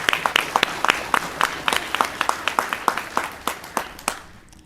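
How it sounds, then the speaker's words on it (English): An audience claps through a round of applause at a mayor's State of the City address, a dense run of sharp hand claps that holds steady and then fades out near the end. "Let's give them another round of applause."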